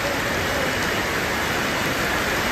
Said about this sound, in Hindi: ये देखो बारिश कितनी तेज हो चुकी है